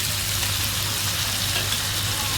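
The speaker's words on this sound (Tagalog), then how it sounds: "Haluin natin ang ating mangosses." Ginisang monggo, a sautéed mung bean stew, sizzles steadily in a pan while being stirred, a dense continuous hiss with low frying crackle and no voices.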